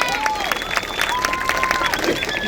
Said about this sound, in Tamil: நல்லா கைத்தட்டி கொண்டாடுங்கள்